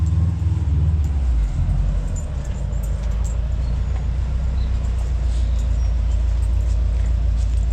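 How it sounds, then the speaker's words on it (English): A Mini car being moved close by, its engine giving a steady loud low rumble that swells near the start and then holds an even drone, with no talk. "I'm gonna have to move the Mini."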